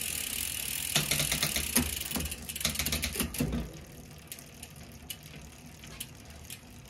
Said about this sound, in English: After shifting through your gears a couple of times, enough of the wax will have been broken up that it'll be flexing smoothly and sounding just lovely.